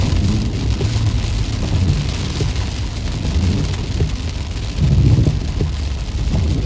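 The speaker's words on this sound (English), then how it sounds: "The rain actually makes it more cool" Steady rain shower pours down in a constant dense hiss, with low rumbling underneath that swells briefly near the end, on the Alabama Gulf Coast.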